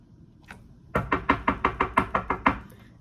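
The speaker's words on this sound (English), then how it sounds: "Knock at the door." Ten quick, evenly spaced knocks rap on a door, loud and close, after a near-silent start with a faint thump.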